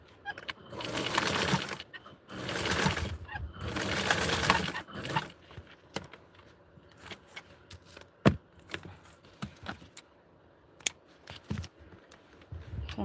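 A sewing machine stitches the inseam of a doll shirt in two loud bursts of rapid whirring, followed by quieter handling clicks and rustles of fabric.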